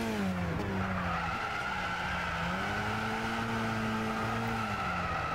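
Car sliding sideways in a Gran Turismo 6 rally time trial, with tires squealing in long wavering tones over a steady engine drone, loud and continuous.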